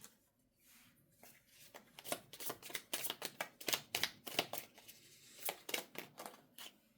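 Tarot cards being shuffled by hand, with quiet riffles and snapping flicks in quick irregular bursts, close and fairly soft, with no one talking.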